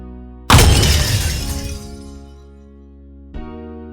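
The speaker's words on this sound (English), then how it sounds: "The mirror shattered into light." A mirror shatters in one loud, close crash of breaking glass that rings and scatters before fading, with a second, smaller glassy burst a few seconds later over a sustained low musical drone.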